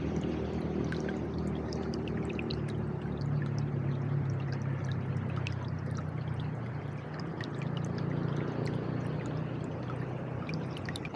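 Steady rushing river water flows continuously, a full, even wash of sound with no voices and no breaks.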